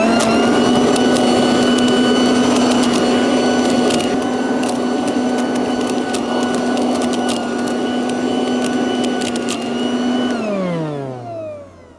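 A garden leaf vacuum sucks up and shreds leaves with a loud, steady motor whine close by, peppered with sharp crackles of chopped debris, then winds down as the motor is switched off near the end.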